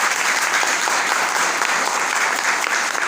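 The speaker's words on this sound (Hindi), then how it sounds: "जोरदार ताली होनी चाहिए" An audience claps hard and steadily for over three seconds, dense and loud with no voices over it.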